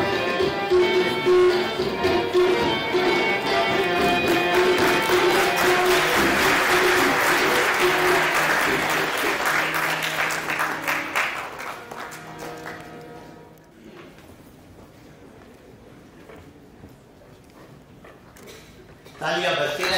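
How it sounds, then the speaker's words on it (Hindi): An audience at a White Cane Safety Day ceremony claps loudly and steadily for about ten seconds, then the applause thins and fades out. "तालियां बजती रहे।"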